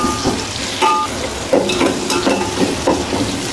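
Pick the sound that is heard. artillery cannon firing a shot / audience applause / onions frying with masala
onions frying with masala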